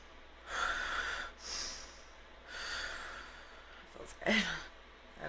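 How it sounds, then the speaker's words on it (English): A group draws deep breaths through the nose together, several long, audible inhales and exhales close by, with a short sharper sniff near the end. "Let's all breathe in."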